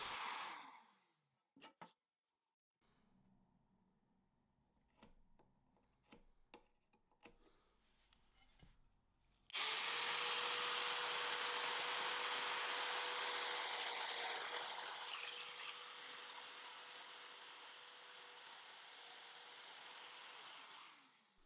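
A Festool Domino joiner cuts slots in wooden architrave after some quiet handling clicks and taps, starting with a loud, sustained high motor whine that eases slightly as it runs for about ten seconds, with no voices.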